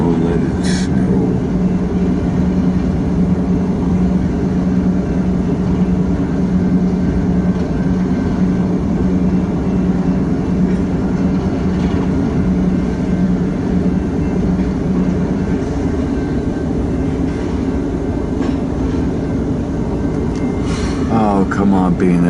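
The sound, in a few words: BNSF freight train passing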